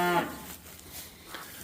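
A mother cow on a cattle farm mooing for her calf, one loud close moo at the start that fades into quiet, with a fainter call following.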